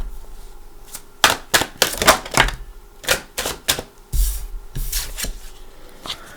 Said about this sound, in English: I think I want to take 4 more cards though.